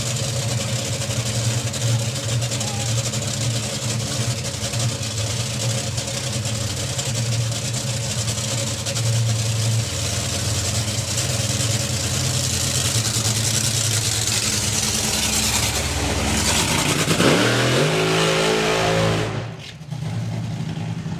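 A drag racing car engine at a Festival of Power meeting idles with a deep, steady rumble for a long stretch, then revs sharply upward near the end before dropping off, close and loud.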